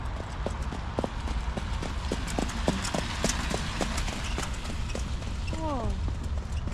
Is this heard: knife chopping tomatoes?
no